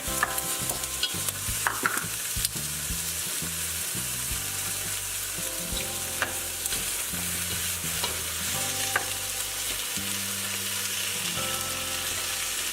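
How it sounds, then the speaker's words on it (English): Onions cook over low heat in a pot for chicken soup, with a steady sizzle and repeated stirring scrapes and knocks running throughout at a fairly even level. "I'm just turning it down to a low heat to put the onions through."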